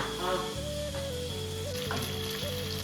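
Potatoes tipped into a hot pan for an Assamese meat and roti meal sizzle steadily and close, a broad continuous frying hiss with music playing underneath throughout.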